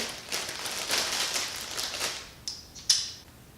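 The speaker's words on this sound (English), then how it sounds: "we got our last two valve shims. We're just gonna pop those in where they need to go." Valve shims being pressed into a Toyota Supra engine head: faint small metallic clicks and light scraping taps close by, with two sharper ticks near the end, in a quiet room without talk.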